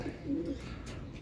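Racing pigeons arriving at the loft during a race from Legazpi give a soft, low cooing over steady outdoor background noise.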